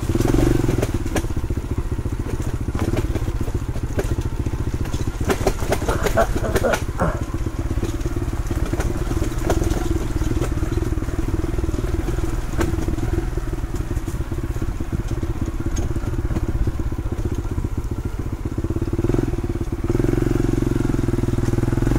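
Monarch Axis 125 motorcycle riding an off-road trail on a North Luzon loop, engine droning steadily close by while the bike thumps and clatters over rough ground, with occasional rattles and bumps.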